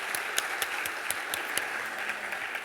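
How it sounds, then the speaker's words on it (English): An audience at a high school college panel night, Staples H.S., applauds the superintendent of schools, a soft and fairly distant round of clapping with a few sharper claps poking through, steady for the whole stretch. "Let's give her a round of applause"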